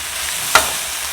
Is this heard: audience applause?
no